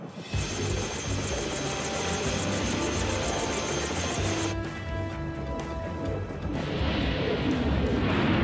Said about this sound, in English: What was that? Engine noise. Funky rotor.